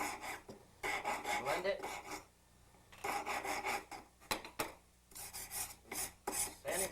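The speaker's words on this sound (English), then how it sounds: "File the back, bottom side," Metal file rasping back and forth across the back of a gold ring in steady bursts of scraping strokes, close and moderately loud, with brief pauses between passes and a short spoken remark.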